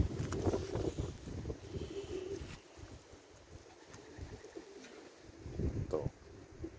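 Soft, low racing pigeon coos repeat faintly outdoors against a background of wind and rustling.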